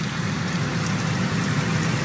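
Steady rain falling outside a home in Arlington, Virginia, a dense continuous hiss with a low rumble underneath, fairly loud and unbroken, with no voices.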